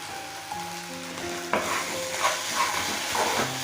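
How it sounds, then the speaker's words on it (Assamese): Mustard spice paste for a rohu fish curry fries in a pan, with a steady sizzle and occasional stirring scrapes, close and moderately loud, no talking. "এতিয়া মই এইখিনি ভালকৈ ফ্ৰাই কৰি ল'ম।"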